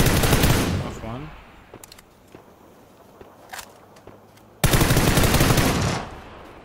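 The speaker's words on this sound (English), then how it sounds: "There's someone behind you shooting." A loud burst of automatic rifle fire in PUBG on PS4 opens, followed by scattered faint distant shots and footsteps, then another sustained, close, loud volley of rapid gunfire from behind.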